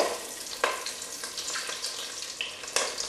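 Boudin balls fry in hot grease with a steady crackling sizzle, punctuated by a few sharper pops, close and alone.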